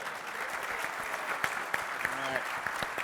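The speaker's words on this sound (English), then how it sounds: "let's give one more big round of applause to our panelists" An audience at a union conference panel applauds the panelists with dense, sustained clapping, fairly close, while voices call out briefly over it.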